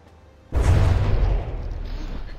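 Shells detonating under a warship via depth fuses in the naval combat game From the Depths: a sudden heavy boom after near silence, followed by a loud rumbling roar that slowly settles into a sustained wash of noise.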